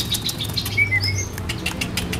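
Quick fluttering wingbeats of a tame branjangan lark, close by, with light patter and a few thin chirps over soft background noise, no talking.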